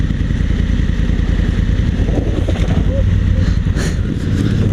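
A dual sport motorcycle on Kenda Big Block Paver street-oriented tires rides dirt trails, its engine droning loud and steady with a rough, rumbling texture and wind buffeting, no talk evident.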